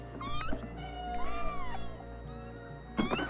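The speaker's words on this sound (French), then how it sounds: "Ah, des chats." Several cats meow repeatedly on a Paris street, a mix of drawn-out and short plaintive cries at close range, fairly quiet overall with steady background hum.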